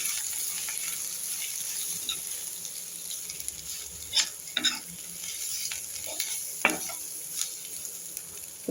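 Onions frying in oil with chili powder for onion vatha kuzhambu, a soft continuous sizzle with occasional scraping stirs and clinks of a spoon against the pan, fairly quiet and without speech.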